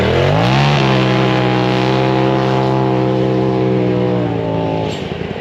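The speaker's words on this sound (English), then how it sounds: "Dude's got the Pro XP Ultimate. Still has a stock exhaust. So we're gonna do a little comparison from a dead stop takeoff." A stock-exhaust Polaris RZR Pro XP Ultimate side-by-side launches from a dead stop, its engine note climbing sharply then holding a loud steady drone before easing off near the end.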